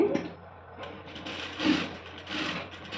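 A sewing machine stitches a school uniform skirt in short runs, its whirring hum swelling and fading in close, uneven bursts.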